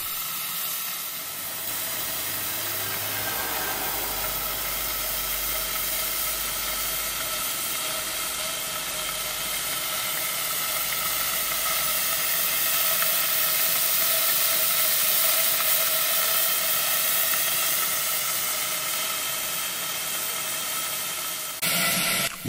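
A working model steam engine hisses steam in a steady, loud, broadband rush that runs almost unbroken throughout, close by, with no talk.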